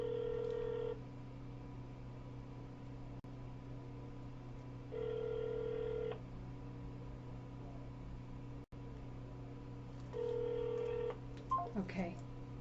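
Telephone keypad DTMF tones sound in three separate bursts of about a second each, under a steady automated court phone-menu voice on a phone line with a constant low hum.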